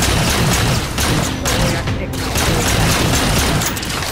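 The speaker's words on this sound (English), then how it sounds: "Grenade dropped right where I was." Grenade explosion amid gunfire in Halo 4 Spartan Ops on the Sniper Alley mission: dense, loud rapid shooting with heavy booms, filling the whole stretch without a break.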